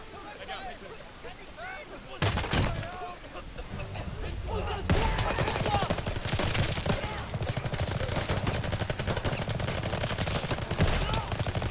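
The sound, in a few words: shotgun gunfire in Call of Duty WWII video game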